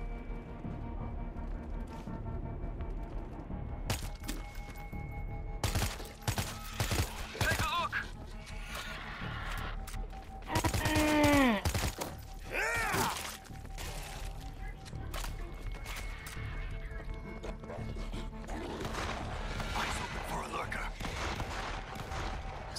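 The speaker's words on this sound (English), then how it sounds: "Sounds like those shots came from the bus." Gunfire from the World War Z zombie game on PS4 in the Tokyo level, a few scattered sharp shots and bursts amid game music and ambience, with speech heard during the clip.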